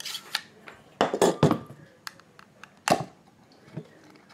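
A sealed glass mason jar of pipe tobacco being worked open: a handful of sharp clicks, clinks and scrapes of glass and metal lid, close and separated by quiet pauses.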